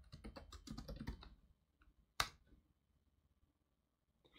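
A computer keyboard typing a command in Fedora Workstation 31: a quick burst of close clicks, then a pause and one sharp louder keystroke, like Enter, followed by quiet.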